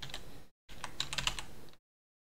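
Quick taps on a computer keyboard, a short burst of crisp clicks, a brief pause, then a longer run of close, faint keystrokes before silence.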